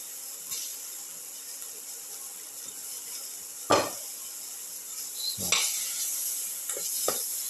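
Tomato pieces sizzle and fry in a pan for a shallot, egg and snake gourd casserole, with a steady hiss broken by a few sharp scrapes and clinks as a spoon stirs against the pan.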